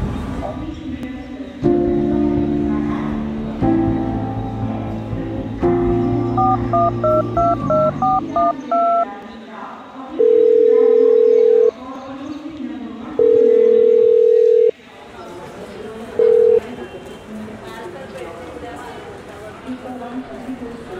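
A phone dialing: a quick run of touch-tone beeps, then long, evenly spaced ringback tones, with a voice speaking over the background.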